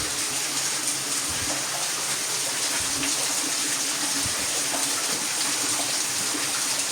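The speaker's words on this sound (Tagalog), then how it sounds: "So may tubig na dito galing sa taas." Water pours down from above in a steady, loud outdoor gush, continuous and washing over the whole stretch with no voices.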